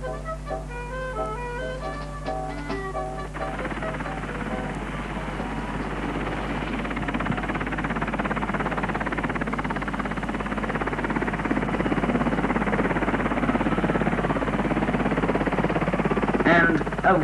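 A 1969 helicopter rises to lift a new spire at Ashridge, its steady, loud rotor and engine roar filling the air after a brief burst of music fades out at the start.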